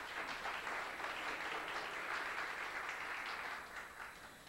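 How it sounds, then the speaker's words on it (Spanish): An audience at a local history talk in Monclova, Coahuila, welcomes a guest with applause: a full, continuous patter of many clapping hands, fairly faint and distant, tapering off at the end. "a quien le damos un fuerte aplauso"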